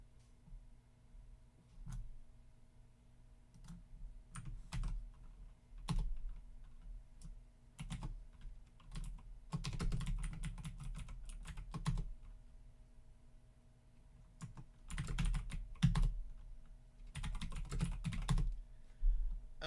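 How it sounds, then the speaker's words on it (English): A computer keyboard clatters with scattered single keystrokes and denser bursts of quick typing, close and fairly quiet, with pauses of near silence between runs. "I don't know if you can hear my keyboard."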